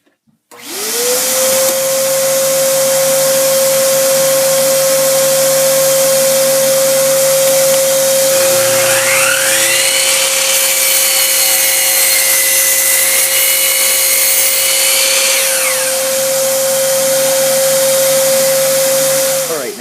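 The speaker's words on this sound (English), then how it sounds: "I've set up my router table as a jointer so I can clean up the edge" Router table set up as a jointer, edging scrap wood boards: a loud, steady motor whine runs throughout, with a rising rasping cut in the middle as a board passes the bit, then settling back to the idle drone.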